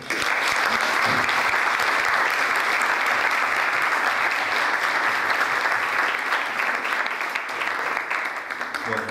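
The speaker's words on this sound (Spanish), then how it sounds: "lo que corresponde un buen aplauso para todos" Sustained, dense applause from a large audience at a youth parliament welcoming ceremony, steady and loud throughout with a slight fade near the end and some voices mixed in.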